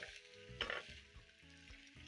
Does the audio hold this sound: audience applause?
no